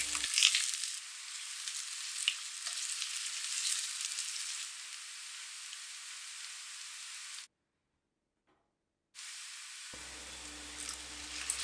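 Broccoli stems, celery and green onion stir-fry in hot oil in a pot, giving a steady sizzling hiss that briefly cuts out before resuming and fading lower.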